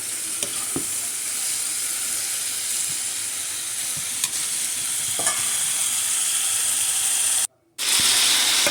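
Ingredients frying in a pan hiss with a loud, constant sizzle close up, with occasional scrapes from stirring and a brief cut to silence near the end.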